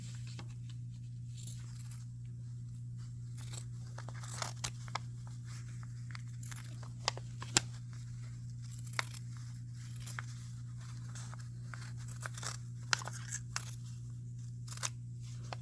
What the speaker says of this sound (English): you're going to grab your fabric shears from your bin and you're going to cut it out right around the round